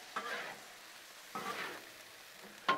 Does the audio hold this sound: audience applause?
no